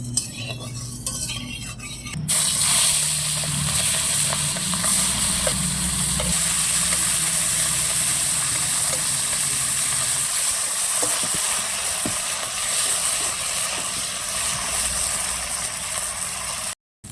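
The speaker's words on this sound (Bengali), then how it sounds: "কড়াই গরম হয়ে গেছে, এবার আমি মাছ ভেজে নেব।" Prawns fry in hot oil in a wok. After a short quieter start, a loud, steady, close sizzle fills the rest, with occasional light scrapes of a utensil.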